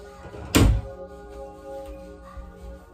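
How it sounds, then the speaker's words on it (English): A single solid door closes with a close, heavy thump in an otherwise quiet room, leaving a low hum afterward. "Let me close the door."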